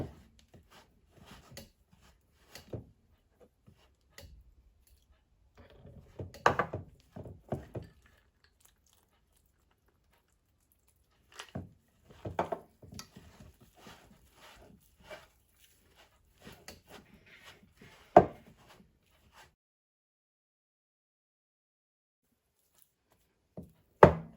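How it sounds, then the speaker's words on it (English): Sticky bun dough for Ghanaian rough buns is mixed and squeezed by hand with milk. Soft, irregular squelches and taps come in scattered bursts separated by quiet pauses, close and fairly faint, with no talking. "I have to use my hand to mix it"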